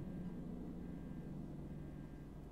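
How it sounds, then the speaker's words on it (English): A helicopter lands in the video game Prey (2017), a steady, low droning rumble that holds at an even, fairly quiet level throughout with no speech. "there's the audio of the helicopter landing"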